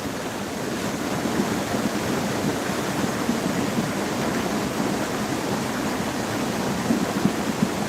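A mountain stream in Daeseonggol Valley on Jirisan rushes in a constant, full broadband roar of flowing water, steady and unbroken throughout.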